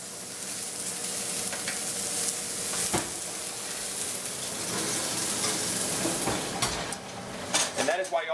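Fish sizzling and frying in an oiled pan, a loud steady hiss of hot oil with occasional clinks of utensils against the pan and a brief rattle near the end.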